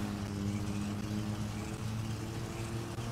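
A faulty car engine in Grand Theft Auto V gives a continuous low, rough drone with layered humming tones, steady and fairly loud throughout.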